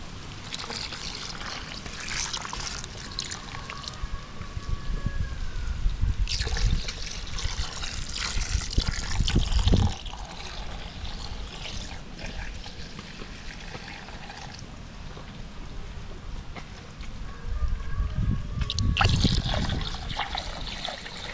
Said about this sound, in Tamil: தேங்காய் பால் சேர்க்க போகிறேன்